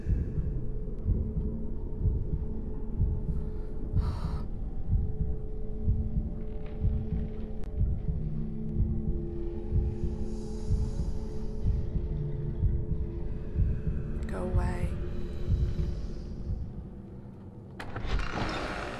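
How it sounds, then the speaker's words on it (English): A heartbeat effect throbs in the horror game Bendy and the Ink Machine as a steady low pulse over a droning hum, with a few brief clanks and creaks on top and no talking. "before I heard the heartbeats"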